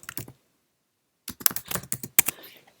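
Typing a terminal command on a Mac keyboard: a quick burst of key clicks, a pause of about a second, then a second rapid run of keystrokes ending in a firmer press, close and crisp.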